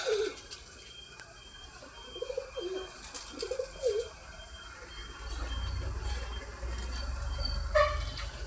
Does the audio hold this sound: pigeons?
yes